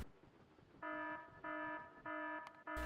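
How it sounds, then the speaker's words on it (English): A ship alarm sounds in the game Factorio Space Age. The tone is a pulsing electronic beep, four steady repeated pulses with short gaps between them, moderately loud over quiet background game noise. "This is the second time that this alarm has gone off"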